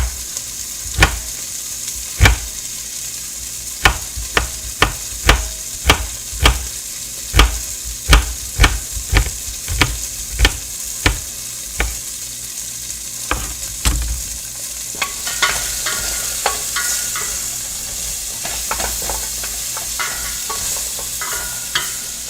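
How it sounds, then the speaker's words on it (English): Lamb pieces for a stew sear and brown in a pot, a steady loud sizzle broken by many sharp clacks of stirring and turning that thin out toward the end, with no talking. "I need to sear this a bit more than I thought."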